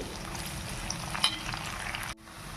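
Chopped onion fries in a pan of hot oil for a chicken curry, giving a steady, close crackling sizzle that drops abruptly quieter near the end.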